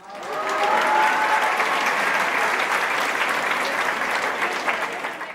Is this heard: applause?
yes